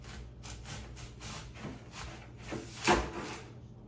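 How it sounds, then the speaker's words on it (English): A knife slices a fresh garden onion on a cutting board, giving a series of soft, quick crisp cuts and board taps close by, ending with one sharper knock. "Just gonna slice a few slices of this onion."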